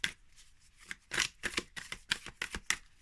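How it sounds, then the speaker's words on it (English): Stiff new Fortuna tarot cards are shuffled by hand, giving a close, crisp run of papery flicks and snaps in quick irregular bursts. "riffle shuffle on the long way"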